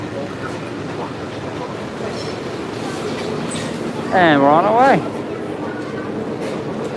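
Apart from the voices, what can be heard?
monorail train arriving and departing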